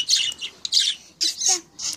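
A bird squawks and chirps in a short series of sharp, bright calls, close and loud, with brief gaps between bursts.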